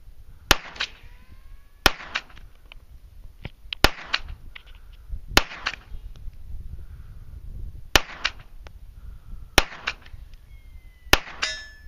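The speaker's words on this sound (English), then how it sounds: "going to send a few rounds at these plates, see if we can hit them with a pistol from here" An EAA Match 9mm pistol fires at steel plates 100 yards away outdoors: seven sharp, loud shots spaced roughly every one to two seconds, each with a brief ringing tail, over faint background noise.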